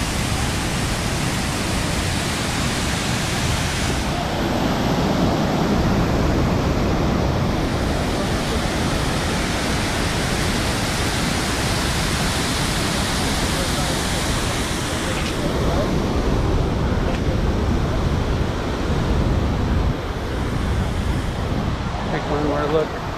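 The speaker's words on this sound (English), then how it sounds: "Kind of reminds me of the biggest waterfall we saw in Iceland." A large man-made dam waterfall plunging into a deep chasm roars in a steady, loud broadband rush that fills the whole clip without pause, a continuous near and powerful wash of falling water.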